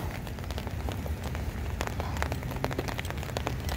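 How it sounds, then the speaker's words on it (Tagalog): Rain falls steadily outdoors during a walk, a dense hiss of drops on surfaces with sharper individual spatters, close and continuous, no talking. "Maulan. Umuulan."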